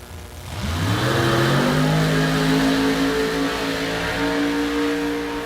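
An Oldsmobile Cutlass drag car launches and accelerates down the strip at a Texas drag racing event, its engine note climbing in one long, loud sweep with no clear gear change, heard from a short distance.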